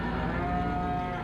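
Cattle mooing inside a beef barn in Farming Simulator 15, one long steady low bellow, close and loud with no talk over it.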